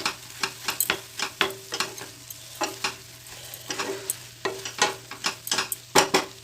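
Vallarai spinach leaves sautéing in a pan, with repeated scraping stir strokes over a soft steady sizzle, close and moderately loud, no talking.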